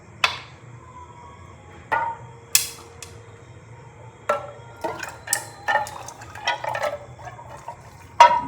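Dry fruits drop into water in a kitchen, a series of close splashes and plops at irregular intervals, some sharp and some softer, with quiet gaps between.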